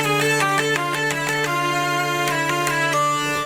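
A hurdy-gurdy sounds its drone strings, a steady low tone held beneath a melody line of shifting notes, loud and continuous with no talk.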